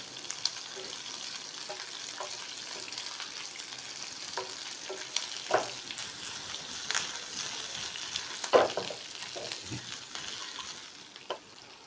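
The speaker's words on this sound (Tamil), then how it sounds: "அதுக்கப்புறம் காஞ்ச மிளகாய், பெரிய வெங்காயம் போடுறேன், கருவேப்பிலை போடுறேன்." Dried red chillies, onion and curry leaves fry in oil in a pan for a ridge gourd chutney, giving a steady close sizzle broken by scattered scraping and clattering stirs, with no talking.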